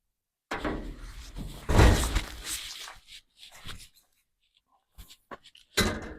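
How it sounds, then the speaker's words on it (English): A door swings open with close, loud thuds and clunks, followed by a few fainter knocks and shuffling movements. "Oops, got the door open over there."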